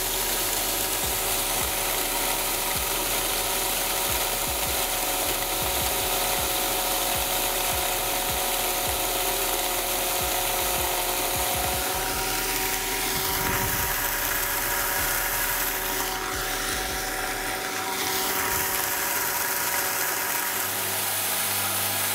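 An Evotools 647123 1100W electric grain mill grinds continuously with a loud, dense rattling whir that holds steady throughout, then eases slightly near the end.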